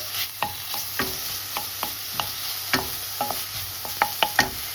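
Bacon sizzles steadily in a pan while a utensil stirs it, giving a soft continuous fry broken by a dozen or so sharp scraping clicks in an irregular rhythm, close up with no talking.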